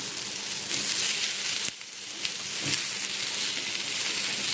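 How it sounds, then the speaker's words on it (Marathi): Chopped tomatoes go into a pan of lightly fried onions and sizzle with a steady, close, moderately loud frying hiss, with a brief clatter of stirring partway through. "आता कांदा आहे ना थोडासा भाजला गेला आता आपण याच्यामध्ये टॅमॅटो टाकूया"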